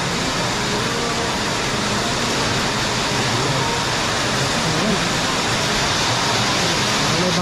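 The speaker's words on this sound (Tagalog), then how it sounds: "Parang may bagyo tayo ah. Biglang buhos." A sudden heavy downpour during a storm roars as dense, steady broadband rain noise, loud and unbroken throughout with no voices.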